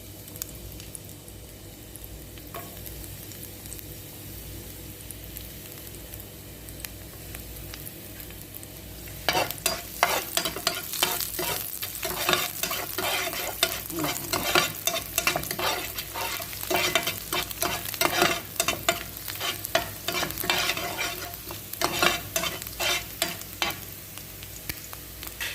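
Garlic frying in oil in a kawali, a quiet hiss that suddenly turns into a dense crackling sizzle, broken by the frequent scrape and clatter of stirring.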